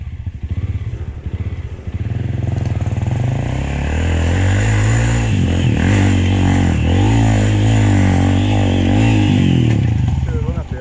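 A Yamaha XTZ trail motorcycle accelerates over rocks on a dirt trail, its engine loud and close, droning and rising in revs, while people talk over it.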